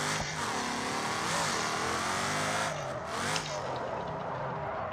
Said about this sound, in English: This is a supercharger car, so I don't really need to keep the boost up.